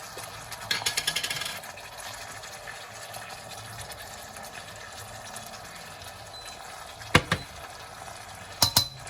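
Sugary sesame chicken sauce is stirred constantly in a pan, a steady low bubbling simmer with soft scraping and a few sharper utensil clicks against the pan, close by and without talk.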